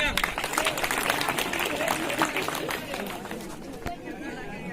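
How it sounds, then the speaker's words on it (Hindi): Loud applause from a crowd at an outdoor school prize ceremony for science quiz winners, dense clapping mixed with crowd chatter, tapering slightly toward the end. "जोरदार तालियां।"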